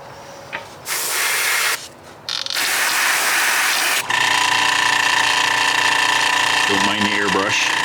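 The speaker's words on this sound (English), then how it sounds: "Don't mind the airbrush." An airbrush hisses steadily while weathering a model locomotive, with short ratcheting mechanical bursts in between, and a person talks over the continuous close spray.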